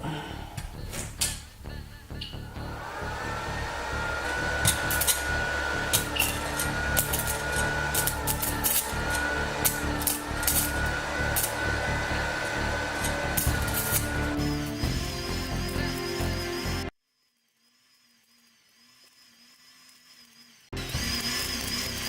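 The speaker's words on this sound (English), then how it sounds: "It's fairly easy to get a spark. I'm not seeming to be able to get a weld though." An arc welder strikes sparks on metal at a workbench, a dense crackling buzz with sharp bursts that runs loud for about fifteen seconds, then cuts to near silence before resuming.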